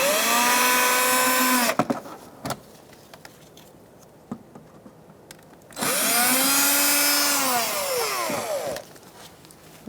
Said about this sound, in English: Using a Phillips head bit on my drill